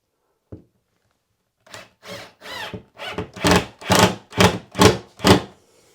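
A screw is driven in while a tube heater is fitted: one soft knock, a pause, then about nine rhythmic grinding, rasping turns that grow louder and closer, with no talk.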